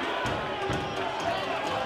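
A crowd at a white-collar boxing event cheers after a knockdown, a steady loud roar of many voices filling the hall throughout.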